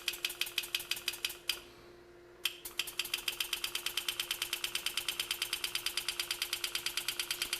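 An Enset engraving tool cuts a flare cut, ticking out rapid, even, buzzing pulses up close. It stops for about a second, then restarts and runs steadily to the end with no talk.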